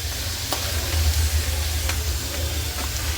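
A chapati frying in oil on a pan gives a steady, close sizzle with a low rumble underneath, plus a few faint clicks, continuous and even throughout with no voices.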